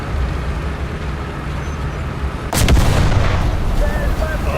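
An HE shell fires in the tank game Sons of Attila: a sudden loud cannon blast midway through that rolls into a long rumbling decay, following a steady engine drone.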